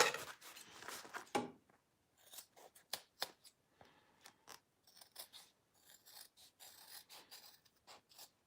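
Scissors snip and trim fabric on a crossbody bag under construction, a run of short, crisp cuts in irregular bursts with brief pauses between them, close and moderately loud.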